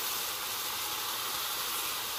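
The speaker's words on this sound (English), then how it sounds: "So I'm gonna dump in these veggies." Celery and snap peas hitting a hot stir-fry pan for chicken stir fry give off a steady, loud sizzling hiss that holds evenly throughout, with no talking.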